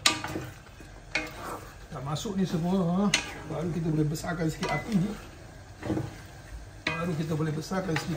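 Sambal goreng with fried tempeh, tofu, chilli, onion, fried shallots, green beans and long beans being stirred in a pan, a spatula scraping and clinking over a soft sizzle while someone talks throughout.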